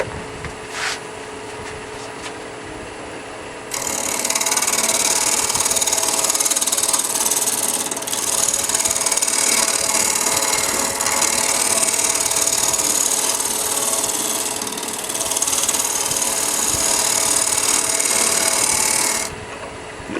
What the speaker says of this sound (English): Lathe speed's about 1800.